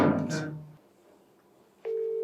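A telephone call is dialed: a voice speaks briefly at first, then near-silence, then a steady electronic ringing tone starts and holds to the end.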